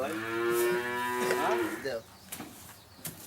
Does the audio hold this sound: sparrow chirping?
no